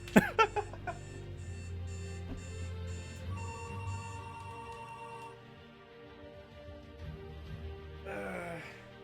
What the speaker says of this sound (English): now my alarm's going off